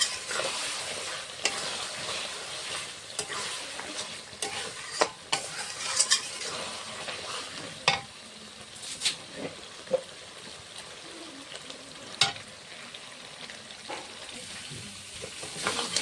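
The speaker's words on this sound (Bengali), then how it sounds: "খুলে কষাবো ভালো করে" Mutton cooking kosha-style in released oil, a constant bubbling sizzle broken by repeated scraping and clinking strokes of a ladle stirring the pan, close up with no voices over it.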